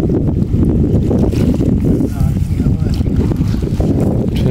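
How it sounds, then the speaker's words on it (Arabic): Strong wind blows outdoors at a riverside fishing camp in Turkey, buffeting the microphone with a loud, continuous roar, and a voice is faintly heard beneath it. "والله في هواء اليوم"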